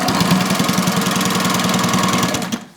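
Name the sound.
sewing machine stitching recycled sail cloth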